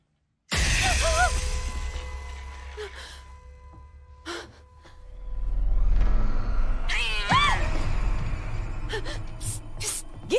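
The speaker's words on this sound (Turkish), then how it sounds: "anlaşılan bu evin kedisiymiş" A house cat meows loudly and close several times over a steady low rumble, with gaspy breaths and rising wails between the calls.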